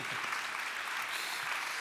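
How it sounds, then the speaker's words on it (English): At a Digital Festival HackZurich stage session, the audience gives a sustained round of applause, even and moderately quiet, a continuous blur of many hands. "Big round of applause."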